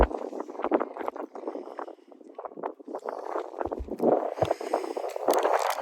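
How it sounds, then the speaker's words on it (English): Gusty wind in the Peak District buffets the microphone in rough, uneven bursts, loud and close, with no voices heard. "It is so windy out here."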